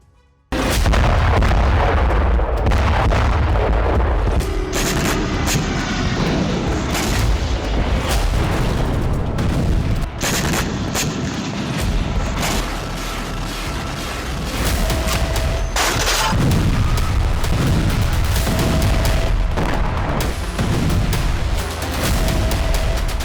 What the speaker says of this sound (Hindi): रूस ने यूक्रेन को स्कंदर मिसाइलों और फैब 3000 बमों से पाट दिया है।